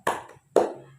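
A classroom of students claps in unison on a count: two crisp group claps about half a second apart, close and fairly loud, with a faint low hum underneath.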